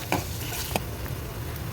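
Ground masala paste frying in a pan while making jeera dal, a faint sizzle with a couple of short scrapes as it is stirred, brief and quiet.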